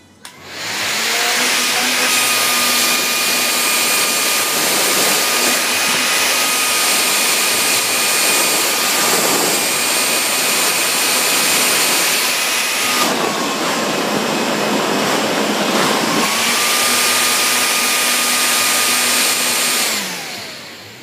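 A Delta BFB0412HHA blower fan spins at high speed, giving a loud, steady whine with a piercing tonal hum that shifts pitch slightly partway through before resuming, then winds down at the end, with no one speaking.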